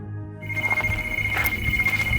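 A telephone rings inside an abandoned building, its electronic ring tone steady and fairly loud after a brief silent start, with a low hum underneath and no voices.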